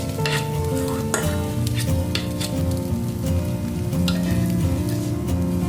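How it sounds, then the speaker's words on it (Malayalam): Milk peda mixture being stirred steadily in a pan over a low flame, a continuous soft scraping and gentle sizzle running the whole time with no one talking. "എന്നിട്ട് ഇത് ഇതുപോലെ ഇങ്ങനെ ഇളക്കി കൊടുത്തോണ്ടിരിക്കണം"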